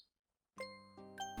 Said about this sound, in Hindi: तभी डोरबेल बज के एक आवाज आई।